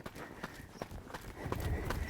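Hooves of a horse clip-clopping in a steady rhythm as it is ridden around a circle, close by and fairly even, getting a little louder toward the end.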